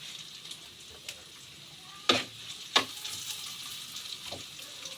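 Squid fries in a pan for adobong pusit, making a steady, soft sizzle with two sharp clatters partway through. There is no talk.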